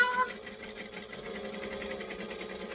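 A domestic sewing machine stitching a second line of seam across fabric, a fast steady mechanical whir and rattle running close and continuous for a few seconds.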